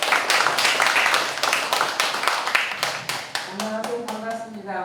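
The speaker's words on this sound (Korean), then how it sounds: "나오실 때 박수 부탁드리겠습니다." An audience claps for a speaker coming up at a basic income movement launch ceremony in Gunsan, with steady applause throughout that fades slightly toward the end, mixed with crowd murmur.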